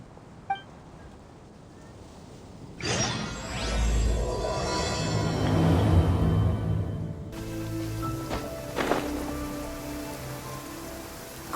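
Rain in the video game Genshin Impact, a quiet patter that swells into a heavy, steady downpour with a whooshing rush midway and a brief knock near the end, no talking.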